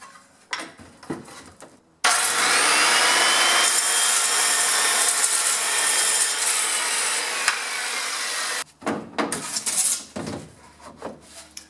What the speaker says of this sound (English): now I need to cut the styrofoam that's sandwiched in between the two fiberglass sheets